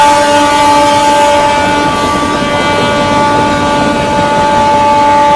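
Steady rumble of the Telangana Express running on the rails, with a continuous loud rolling drone and a sustained tonal hum over it. No speech.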